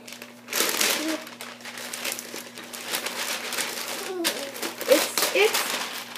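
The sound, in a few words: tearing open an express post paper envelope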